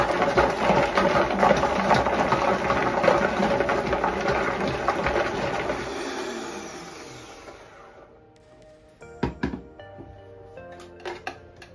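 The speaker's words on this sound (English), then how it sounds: "So I pop them into my blender, and I have a Vitamix here. And I simply turn on the lowest." A Vitamix blender on its lowest setting grates carrots with a loud, steady whirring roar. It winds down and stops after about seven seconds, followed by a few light clunks of the container.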